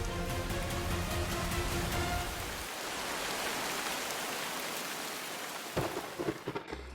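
Steady heavy rain pours with a low rumble of thunder underneath, a dense even hiss that thins out partway through before a few closer drips and taps near the end, with no voices.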